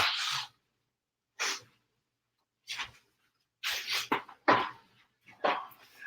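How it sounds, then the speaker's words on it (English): A person blowing their nose during a live cooking session, several short separate honking bursts with silent gaps between them. "blow my nose when I'm live."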